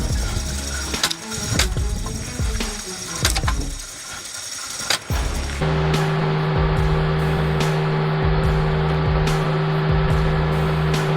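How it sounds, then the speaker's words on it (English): A high-powered hydraulic log splitter working through firewood gives sharp cracks and knocks at first, then settles into a loud, steady machine drone with a tonal hum and intermittent thuds, with no voices. "This high-powered log splitter is the perfect combination of intelligent design and strength."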